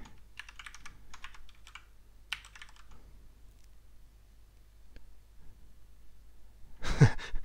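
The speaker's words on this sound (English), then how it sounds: "No, there are red switches on my keyboard. That's why you hear it." Typing on a computer keyboard with red switches: quiet bursts of soft key clicks in short runs with pauses, close and faint, followed by a breath near the end.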